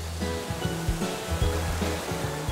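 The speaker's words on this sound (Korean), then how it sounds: "시원한 물소리만 들어도 더위가 싹 가시는 것 같습니다" Rushing water of a stream where children play in summer, a steady broadband wash filling the whole clip with no voices over it.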